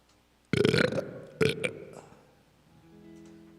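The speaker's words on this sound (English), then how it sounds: "I had to turn on the reverb for that burp" A long, deep burp followed by a shorter second one, both trailing off in an added reverb echo, with a faint hum afterward.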